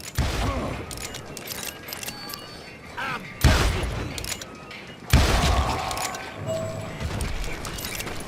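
Enemy gunfire in the Wild West shooter Call of Juarez Gunslinger: rapid volleys of shots and booming impacts crackle throughout, with two sharp, louder bursts near the middle and end, loud and close.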